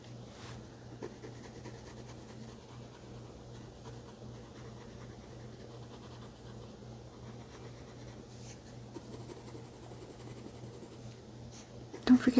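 A colouring pencil shades a sunflower drawing on paper, a soft continuous scratchy scribbling close to the microphone that keeps going throughout, with a low steady hum underneath.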